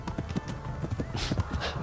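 Rapid hoofbeats of a galloping horse in a video game thud in quick rhythm, close and steady, with a short whoosh of splashing through a river partway through.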